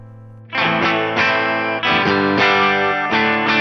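Distorted electric guitar chords through a Fender Blues Junior amp model on a Fractal modeler, struck and left ringing, several heavy hits in a row, thick and close, with no voices.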